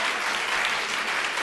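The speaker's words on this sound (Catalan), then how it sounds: "Fort aplaudiment per ells" A brief burst of audience applause greets a school quiz team on a Catalan word game show, a dense, loud wash of clapping with no voices.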